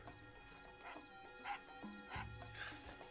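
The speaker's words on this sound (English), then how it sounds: "Damn dog, I swear to God I'm gonna kill it one of these days." A dog yaps and barks in short bursts in Tender Loving Care, fairly quiet and spread across a few seconds over a low background hum.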